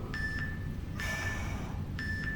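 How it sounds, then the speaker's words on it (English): A workout interval timer sounds three evenly spaced electronic beeps about a second apart, the middle one longer, clear and moderately loud over a low background hum. "There's our timer."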